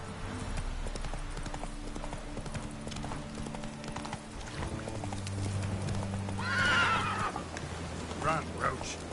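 Roach, a horse in The Witcher 3 video game, galloping with rhythmic clip-clop hoofbeats under low game music, a neigh rising midway, moderately loud and close, with a brief voice urging the horse.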